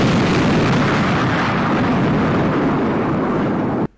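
A huge bomb explosion levels an enemy base in Space Engineers, a loud, sustained roaring blast of dense rumble that fills almost four seconds before cutting off abruptly.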